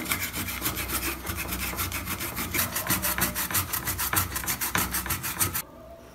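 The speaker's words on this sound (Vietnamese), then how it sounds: "Các bạn hãy mài cà rốt." A carrot being grated on a grater in a home kitchen, steady rhythmic rasping strokes, close and loud, about two per second before stopping abruptly near the end, no voices.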